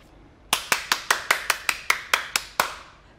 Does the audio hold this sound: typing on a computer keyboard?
no